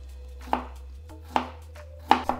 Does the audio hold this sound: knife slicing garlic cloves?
yes